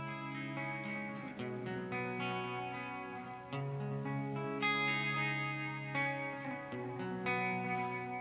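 An electric guitar plays sustained chords through a Boss DM-101 delay pedal in ambience mode, the notes blurring into a washy, reverb-like ambient pad with lingering repeats.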